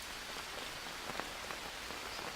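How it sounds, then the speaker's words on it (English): Steady rain patters on leaves around a shelter in the jungle survival game Green Hell, a dense, even hiss with soft individual drops, quiet and continuous. "if you can hear the rain now, it's different when you're in the shelter"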